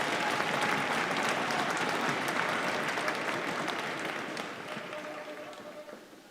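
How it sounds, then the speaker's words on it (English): Audience applause at a school strings celebration for a 6th grade orchestra and their directors, a dense wash of clapping that holds steady and then gradually fades toward the end. "Let's give a round of applause to our 6th grade orchestra and their directors"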